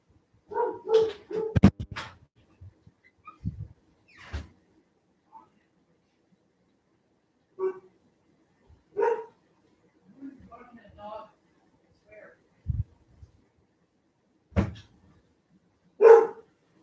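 A dog barks in short, scattered bursts, some sharp yips and others lower woofs, separated by long pauses indoors, close and fairly loud with quiet stretches between.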